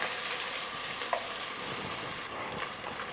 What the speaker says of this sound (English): But we're going to let these bits of bacon crisp up